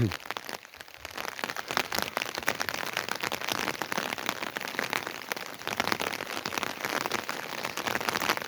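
Steady rain patters densely on surfaces all around in an autumn village, a continuous hiss of drops with no pauses.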